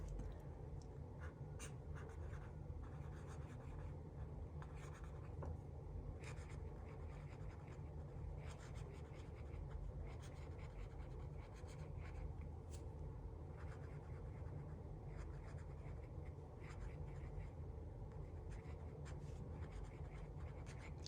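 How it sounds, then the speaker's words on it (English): Continuous scratchy Papermate ballpoint pen strokes on paper, steady and close, with faint rustling throughout and no talking. "one of my favorite pens to write with is these Papermate pens."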